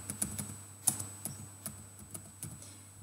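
Fingers tap out a name on a computer keyboard, quiet clicks spaced irregularly over a few seconds against a faint steady hum.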